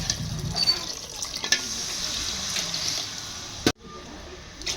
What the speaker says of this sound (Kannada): ಒಂದೂವರೆ ಚರಿ ನೀರು ಹಾಕ್ಬಿಡ್ತೀನಿ